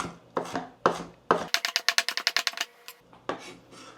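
A knife chopping a mild, deseeded chili pepper on a board: a quick run of about a dozen crisp, evenly spaced taps, close and clear, between scattered heavier knocks.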